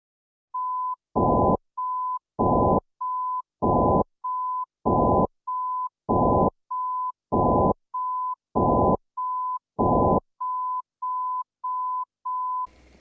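A steady 1000 Hz beep repeats in a regular pattern, alternating between a clean tone alone and the same tone partially masked under bursts of broadband noise.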